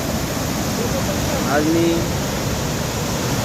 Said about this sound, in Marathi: आज पहिली वेळेस या धबधबा जोरजोरात वाहत आहे